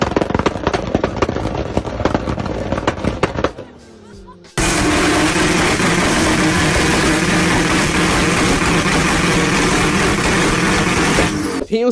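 Toyota Supra engine roaring at high revs with hard popping and crackling, loud and close, a brief dip near the middle before a sustained full-throttle blare with rapid bangs.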